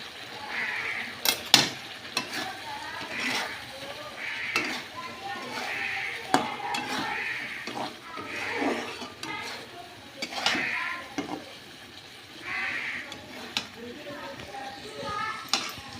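Fish is sautéed with spices in a pan, giving a soft sizzle with repeated utensil scrapes and clinks against the pan at a moderate distance, while a voice talks intermittently over the cooking.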